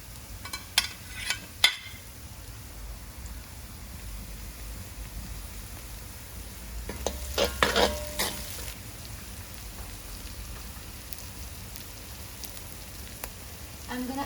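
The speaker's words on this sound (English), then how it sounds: "I just rinse it a little and throw in the oil to fry up my sweet potatoes." Sweet potatoes frying in oil in a home kitchen, a soft steady crackle with a few sharp clatters early on and a louder burst of sizzling and handling noise around the middle.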